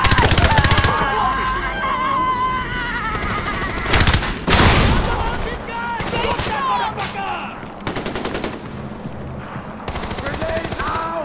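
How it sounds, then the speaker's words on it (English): Loud automatic gunfire from Far Cry 4 combat, rapid bursts of shots rattling almost continuously with brief pauses, while voices shout over the shooting. "Don't stop firing!"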